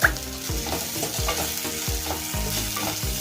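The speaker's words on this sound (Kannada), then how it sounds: "2 ನಿಮಿಷ ಫ್ರೈ ಮಾಡಿ" Green chilli paste frying in a pan with onion, a steady close sizzle broken by rhythmic scraping strokes of a spoon about every half second, no voices.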